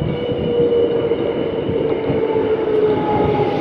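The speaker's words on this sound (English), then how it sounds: "because it follows the railway track and the freeway, it's really loud" A train rumbles past beside a bike path running along a railway track and freeway, with a loud, continuous roar of rail and traffic noise filling the whole stretch and steady tonal whines over it.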